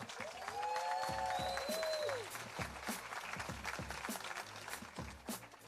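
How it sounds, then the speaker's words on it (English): Sustained applause from a crowd at the 2023 STXIFF film festival awards ceremony, dense clapping throughout with a few whistles and cheers rising above it, gradually thinning toward the end. "Let's give him another round of applause."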